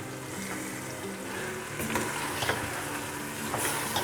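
Chicken frying in a pan with dried fenugreek leaves (kasuri methi) being added, a steady soft sizzle with light stirring scrapes and small clicks.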